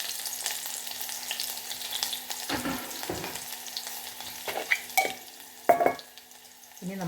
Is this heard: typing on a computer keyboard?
no